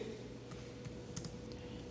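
Rapid keystrokes on a computer keyboard while entering commands in an Ubuntu terminal, a steady run of light clicks close up with no voices.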